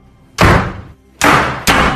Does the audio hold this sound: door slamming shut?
yes